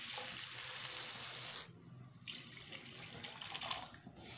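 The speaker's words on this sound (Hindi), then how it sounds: "अब हम इसमें पानी ऐड कर देंगे" Water pours steadily into a pan of roasted vermicelli being cooked as Punjabi seviyan, a loud, close rushing splash that breaks off briefly midway and then resumes at a lower level.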